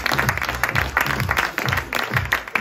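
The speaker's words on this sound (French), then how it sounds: "vous pouvez m'applaudir" Audience applause at a comedy night in a bar in Brest, with steady clapping and a few cheers and voices over it, fairly loud and continuous throughout.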